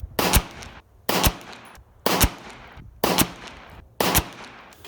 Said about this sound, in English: 15 rounds shot in a row. No failure to feed or eject.